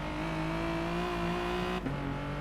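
A race car drives through the pit lane in Gran Turismo Sport, its engine holding a steady, loud, droning hum at an even pitch, with a brief dip and gear shift near the end.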